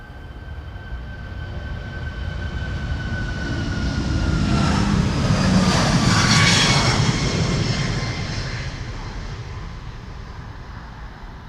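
Airbus A340-600 jet airliner on its takeoff roll from Amsterdam Schiphol's Polderbaan runway, a long broadband engine roar that swells to a peak as it passes close by, then slowly fades.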